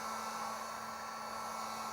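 A heat blower runs steadily to soften stubborn adhesive, giving a constant faint airy whir with a low hum throughout and no talking.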